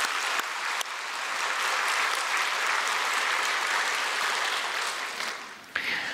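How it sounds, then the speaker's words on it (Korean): A church congregation claps together to welcome new members, a dense, steady wash of applause that swells, holds, and then tapers off near the end. "우리 새가족들 박수 한번 했으면 좋겠어요"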